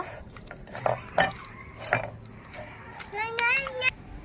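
A spiced gram-flour batter is mixed in a bowl, with a utensil clinking and scraping against the dish several times while a voice babbles and speaks nearby.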